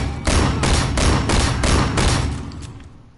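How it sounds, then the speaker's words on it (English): Rapid, loud bursts of gunfire in the video game Sleeping Dogs, a dense run of shots and impacts lasting a few seconds before tapering off. "it's more shooting"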